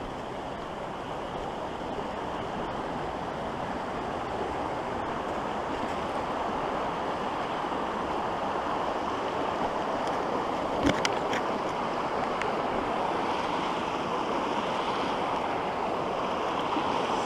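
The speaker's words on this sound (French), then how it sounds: "on traverse le ruisseau de Tromaret" A stream rushes steadily beneath a footbridge on a woodland hiking loop near Malmedy. The water makes a continuous broadband roar, close and unchanging, with a brief knock or two partway through.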